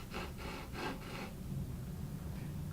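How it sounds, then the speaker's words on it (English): A hand-held pool cue tip shaper is twisted against a cue tip, giving four quiet rhythmic rasping scrapes followed by faint near-silence. "And just slowly drill the cue into the shaper."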